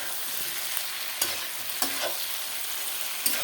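Cumin, ginger and chili paste sauté in hot oil with a steady close sizzle, broken by a few sharp scrapes of a spoon stirring the pan.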